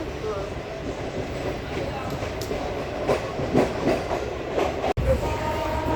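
A local train near Amritsar rolls along with a loud continuous rumble and rhythmic wheel clatter, heard from inside, with voices faintly mixed into the noise.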